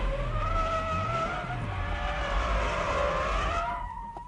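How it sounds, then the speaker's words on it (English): A drifting car sliding with understeer gives a loud, sustained tire squeal with wavering pitch over the engine's roar, holding steady for several seconds before tailing off at the end. "That's how you keep control and drift with understeer."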